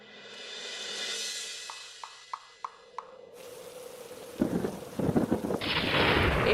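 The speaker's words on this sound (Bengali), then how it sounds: "এই তো ঝড় বৃষ্টি শুরু হয়ে গেল" Cartoon thunderstorm with a rumbling roll of thunder and a few sharp cracks, then a sudden burst of heavy rain and another thunder crash, loud and close with no voices.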